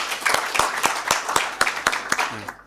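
Workshop audience applauding a professor, with sharp, evenly spaced claps close by over a softer background of clapping, ending with a brief voice.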